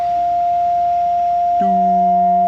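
A steady electronic beep tone from a 2019 Ram 1500 pickup holds throughout, joined near the end by a second, lower two-tone chime, close and clear with no talking.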